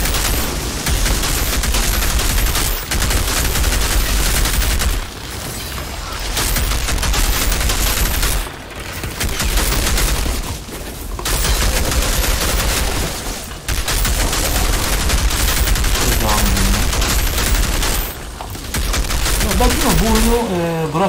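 Sustained loud gunfire from the Outriders video game: dense automatic bursts roaring almost continuously with short gaps between volleys, with someone talking at times over the shooting.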